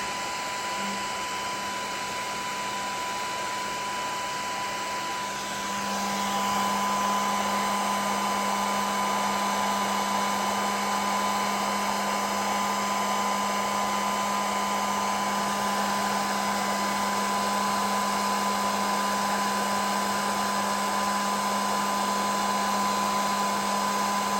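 A heat gun blows steadily as it shrinks heat-shrink tubing on winch wiring for a Polaris Sportsman ATV, a constant loud whine and rush that steps up slightly in strength partway through and holds without a break.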